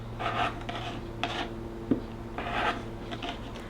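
Scissors snip off small fabric corners of a quilt block, a few soft, close rasping cuts in short bursts with a small click in between.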